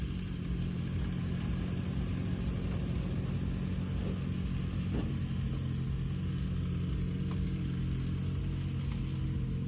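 A stuck side-by-side UTV engine runs with a steady mid-pitched drone and a light rise in revs, heard continuously at moderate distance with no voices.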